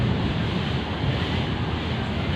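Steady, loud wind buffeting the microphone, a continuous broadband roar with no voices, like a gusty outdoor breeze near water.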